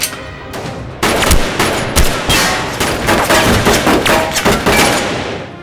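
Gunfire fills a tense action film scene of a special-agent mission: loud, repeated shots and bursts crack out close by in a rapid, uneven barrage lasting several seconds.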